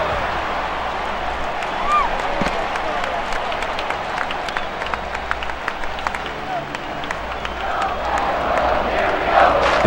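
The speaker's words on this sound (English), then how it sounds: "and the crowd is right behind him." Crowd noise from a baseball video game, MLB 2K5, roars steadily with scattered clapping and cheering, a dense continuous stadium bed under commentary.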